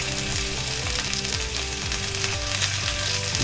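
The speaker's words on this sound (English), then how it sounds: "Now we're going to brown our beef ribs." Beef ribs from a local butcher browning in a hot Dutch oven give a loud, steady sizzle and spit, with a faint rhythmic tapping underneath and no voices.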